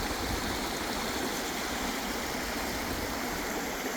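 Steady, close rushing of creek water runs without a break, a dense broadband wash of flowing stream with no voices on top.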